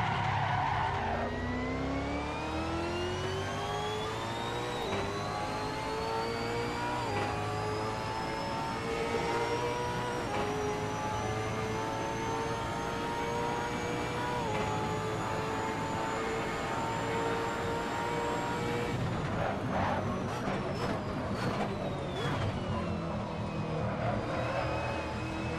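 A V8 Supercar engine in the Assetto Corsa racing game drones steadily, its pitch climbing through the gears and then dropping sharply near the end, with loud, continuous revving and brief tire squeal.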